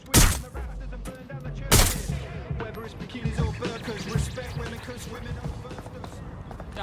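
Gunfire in the video game Watch Dogs: Legion: two sharp, loud shots about two seconds apart, followed by softer thuds and crackles beneath character voices and game sounds.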